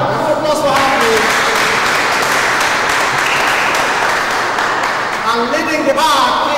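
Sustained applause from a large crowd, steady and dense throughout, with a voice briefly audible near the end.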